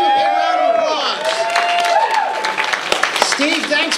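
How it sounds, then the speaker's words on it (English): An audience at an Alamo Drafthouse screening breaks into a burst of applause, with clapping swelling across the crowd, scattered whistles and cheers rising from the room, and a voice calling out over the noise. "Let's give Steve a big round of applause."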